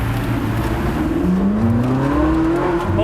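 Ferrari sports car engine revving loud and close while driving, a continuous roar with pitch climbing and falling through the gears, dense and unbroken, no talking.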